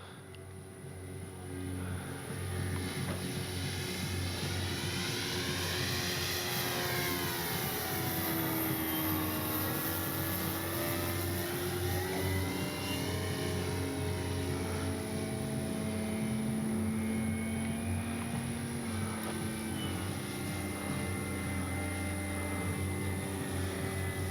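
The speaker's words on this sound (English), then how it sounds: "the plane will slow down ever so nice" Steady propeller drone of an Avios Extra NG radio-controlled model plane, continuous and fairly close, with the pitch rising and falling as it passes around.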